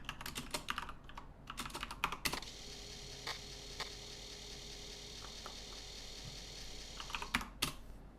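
Keys clatter on a Commodore 64 keyboard as a type-in program is entered: bursts of quick, close clicking, a long pause with steady electrical hum, then more rapid typing near the end.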